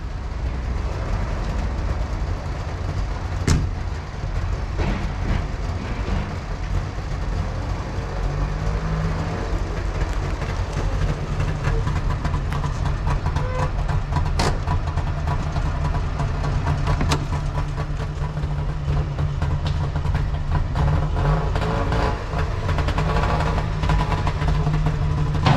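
A Wartburg 311 two-stroke engine runs steadily nearby with a constant low, buzzing drone and a few faint clicks and knocks on top, heard alone with no talk.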